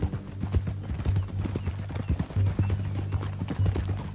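Horse hooves clip-clopping at a steady walking rhythm in Red Dead Redemption 2, close and clear, with a faint snort or whinny in the mix.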